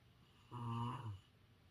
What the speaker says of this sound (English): Do you get annoyed when someone snores?